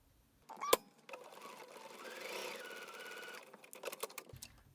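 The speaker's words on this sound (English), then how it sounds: "I was going to put that piece together with that" A sewing machine stitches quilt block pieces together in one short run of a couple of seconds, a close whirring mechanical buzz, preceded by a sharp click and followed by light handling noises.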